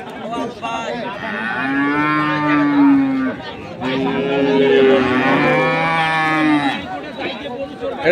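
Long, loud moos from a dairy cow fill a busy cattle market in Ambari, Dinajpur, two drawn-out calls close by with faint crowd noise beneath.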